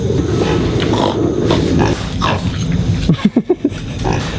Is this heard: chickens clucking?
no